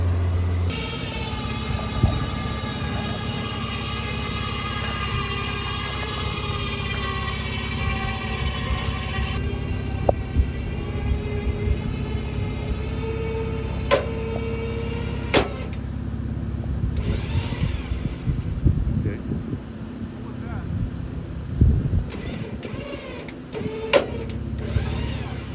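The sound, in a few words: electric winch pulling a vehicle out of a ditch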